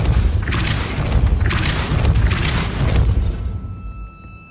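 A Depulso spell strikes a gate in Hogwarts Legacy on Xbox Series X, giving a loud, sustained booming blast with rumbling, mechanical churning that pulses a few times before fading out.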